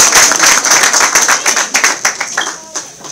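A crowd applauds at a community celebration event, with loud, dense clapping that gradually thins out toward the end.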